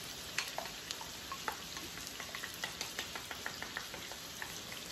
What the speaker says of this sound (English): Now stir this around, mix it all together